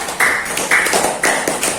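Classroom applause for a student group in a primary school lesson, a short burst of claps repeating in quick bursts, close and fairly loud.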